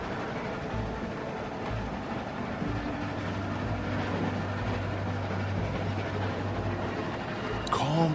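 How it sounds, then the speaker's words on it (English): Steady train rumble inside The Walking Dead game, a low continuous rolling drone with faint rail clatter throughout, ending with a brief sharp noise. "Stop the train."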